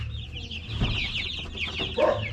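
Young chicks that are losing their down feathers peep continuously in a brooder, with many high overlapping chirps nearby over a low background rumble.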